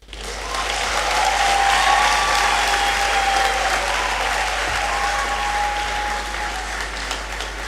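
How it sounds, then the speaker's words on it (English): Sustained audience applause in a great hall at a university congregation ceremony after a graduate's speech, loud and even clapping that swells early and holds steady, with no talk over it. "So let's sustain the clap as she resumes her seat."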